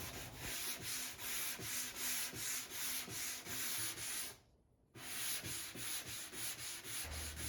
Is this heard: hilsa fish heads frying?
no